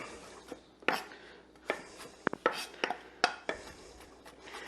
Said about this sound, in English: Then we're just going to take it and we're just going to chop it up.